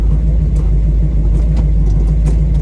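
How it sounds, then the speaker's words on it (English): A 1969 Chevrolet Nova SS396 with its big-block V8 rumbles heavily while downshifting, a loud, close, continuous low engine drone from inside the car with no talking over it. "So you can downshift the car"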